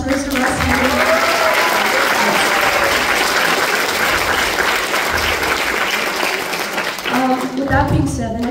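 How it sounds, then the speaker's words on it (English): A school fall band concert audience gives a band director a long round of applause, dense steady clapping that thins near the end as voices and cheers come through. "So, another round of applause for Mr. Russ Henning."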